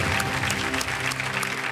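Studio audience applause on Kaun Banega Crorepati, a brief, dense burst of steady clapping heard alone at moderate level.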